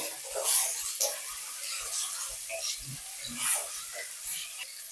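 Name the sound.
bitter gourd pieces frying in hot oil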